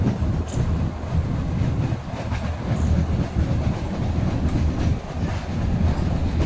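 A Junagadh–Sasan Gir–Delvada meter gauge train runs with a loud, continuous rumble and rattling clatter of wheels on rails. It is close and steady throughout, with no talk.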